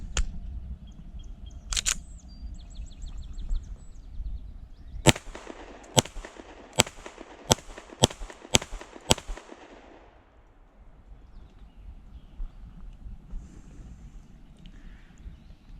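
A Fusion Firearms XP Pro 1911 pistol fires a quick string of six or seven sharp, loud shots at a steady pace outdoors, preceded by a couple of isolated cracks and followed by quiet.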